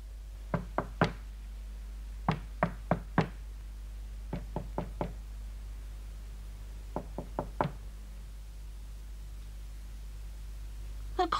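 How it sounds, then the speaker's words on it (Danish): Knocking on a door in a 1970s Norwegian children's TV show: several clusters of sharp knocks, three or four raps each, separated by pauses, fairly close and clear over a low steady hum. "Da skal jeg banke på."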